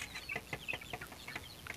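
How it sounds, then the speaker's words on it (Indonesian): Young chickens that have just been fed make repeated soft clucks and peeps in an uneven series, heard fairly close but quietly, with no one talking. "ini ayam-ayam saya sudah saya kasih makan"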